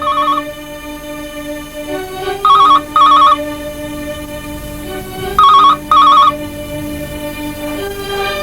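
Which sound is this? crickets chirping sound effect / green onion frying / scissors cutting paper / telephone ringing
telephone ringing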